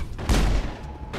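A single heavy gunshot from a Mass Effect firefight: one loud, deep boom with a short decaying tail, close and alone.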